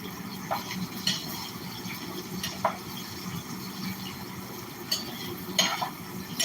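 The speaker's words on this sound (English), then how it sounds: "I cut up some of the pork into little chunks, and I'm frying it in the frying pan" Pork chunks frying in a frying pan, a steady low sizzle with occasional sharper clinks and scrapes of stirring utensils against the pan, moderately close with no talking.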